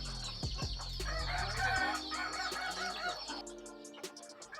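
An Ayam Kukuak Balenggek rooster, a Minangkabau breed from Solok crossed from red junglefowl and village chickens, crows loudly and close with a long, multi-stepped call, then trails off into quieter clucking.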